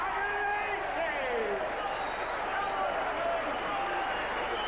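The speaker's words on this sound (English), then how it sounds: "The crowd appreciating the talents of this young man" An arena crowd at the 1983 world darts final between Eric Bristow and Keith Deller applauds in a continuous, dense wash of clapping. A commentator's voice sits over the crowd throughout.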